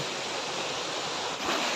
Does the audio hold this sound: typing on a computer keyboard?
no